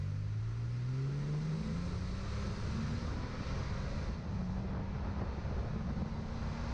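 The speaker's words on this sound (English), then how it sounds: "You'll hear the engine revving, of course, so you'll know." A lifted Toyota Tacoma pickup's engine revs up with a rising tone, then holds steady and strong close by, with wind rushing over the microphone.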